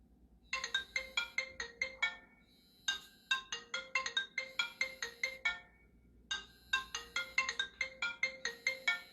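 Cell phone ringing with a bright electronic ringtone: three rapid bursts of staccato melodic tones separated by short pauses, clear and steady with no voices.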